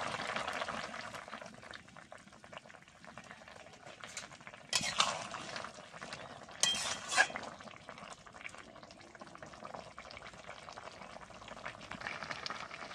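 Shukto, a Bengali mixed-vegetable dish, simmering in milk in a pan, giving a steady bubbling hiss with occasional clinks of a stirring utensil, close and moderately loud, without talk.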